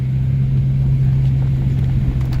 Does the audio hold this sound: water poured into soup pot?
no